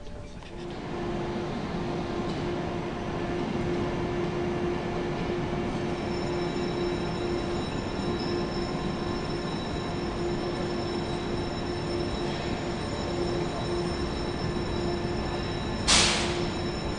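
A slow passenger train rolls steadily past, heard from aboard a stationary train in car 3: a continuous low rumble with a sustained wheel hum and faint high squeal tones, ending with a brief sharp burst near the end.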